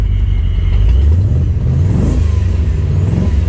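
A supercharged Corvette engine running steadily up close, a low rumbling drone with a slight rise in revs partway through as it begins running smoother.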